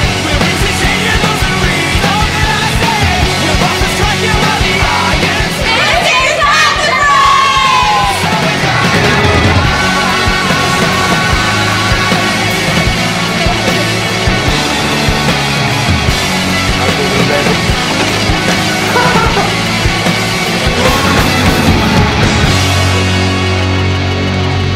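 An audience at a band's gig keeps up continuous loud yelling, whooping and cheering throughout, with music booming underneath.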